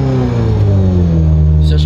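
An old Ferrari, a barn-find classic, with its engine revving steadily, a loud, close, continuous tone that slowly rises in pitch, with a brief extra noise near the end.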